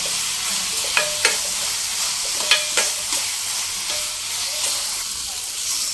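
A spiced egg roll filling being stirred in a pan, with steady scraping strokes and soft sizzling, punctuated by several sharp clicks of the spoon against the pan and no voices.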